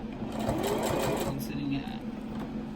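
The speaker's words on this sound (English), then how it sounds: "I can just sew along the edge there." A sewing machine hums and rattles steadily as it stitches along the edge of a homemade fabric face mask. A voice talks over the machine throughout.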